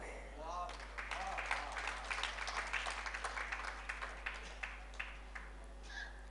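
Faint audience clapping at a Jain religious discourse by Acharya Vishuddhasagar, a patter of scattered claps over a steady low hum, quiet and somewhat distant.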